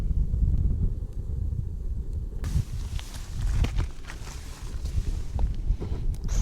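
Wind gusting across a wild camp on the west coast of Scotland, a steady low rumbling buffet against the microphone with shifting surges and occasional knocks, strengthening and brightening partway through.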